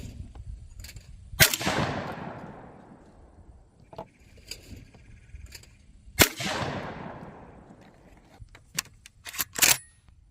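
Browning Sweet Sixteen 16 gauge shotgun firing two loud, sharp blasts several seconds apart outdoors, each trailing a long echoing decay, with small clicks and handling clatter between and after the shots.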